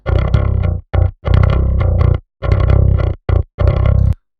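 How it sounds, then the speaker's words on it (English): Clean DI bass guitar played in short chopped phrases separated by brief silences, with a raw, bright, somewhat gritty tone and no talking. "Bass tone, super simple."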